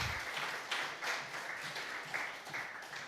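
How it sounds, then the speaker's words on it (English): A conference audience at DappCon23 breaks into applause, a moderate, even wash of many hands clapping from a distance for a few seconds. "So everyone give a big round of applause."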